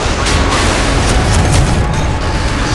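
A missile strikes an enemy warship in the naval combat game Modern Warships, giving a loud, sustained blast of rumbling, roaring noise that fills the whole moment without any talk.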